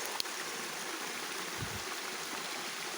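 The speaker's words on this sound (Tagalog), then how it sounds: "Yan ang sapa. May tubig siya mga katiits." A steady, broad rush of flowing stream water swollen by a typhoon, constant and fairly soft, with a faint low thump partway through.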